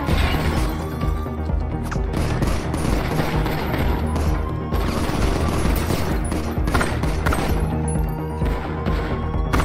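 Dense rapid gunfire fills a video game firefight, shots cracking in quick bursts and overlapping volleys, loud and near, with crashes mixed in and no pauses.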